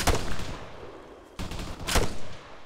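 Rifle gunfire in Arma 3 combat, several sharp, loud reports with rumbling tails, spaced over a few seconds and heard close with no talking.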